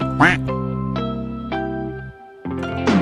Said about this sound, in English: Q for quack quack.